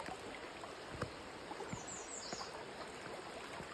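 High stream water rushes and trickles steadily at a crossing on the Appalachian Trail during a rainy southbound hike, with faint splashes as someone wades through.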